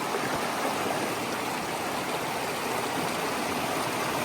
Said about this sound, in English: Alright, Long Pond Stream.